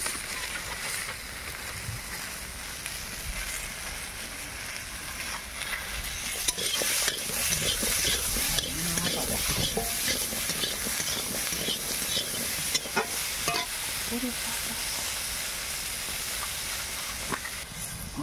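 Bitter gourd leaf chorchori frying in a pan while being stirred, with a steady sizzling hiss and scraping, clattering stirring strokes close up and continuous throughout.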